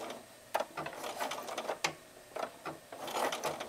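Sewing machine stitching a honeybee-themed jelly roll mug rug toward the next corner, a short near whirring run with rhythmic needle chatter in bursts and no voice.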